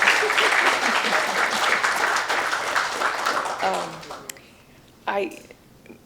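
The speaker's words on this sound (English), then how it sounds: "it might be a good idea to put our hands together and clap for Sherri for bringing this together" An audience claps in a dense burst of applause that gradually thins out and fades, with a few scattered claps near the end and speech heard alongside.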